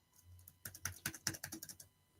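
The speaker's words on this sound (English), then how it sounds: "My keyboard's not working." Quick, uneven bursts of clicking keys on a computer keyboard sound close but quiet, with no voices.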